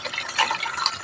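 Water pours steadily into a cooking pot for a banana-heart soup, a close, bright splashing trickle with no voices.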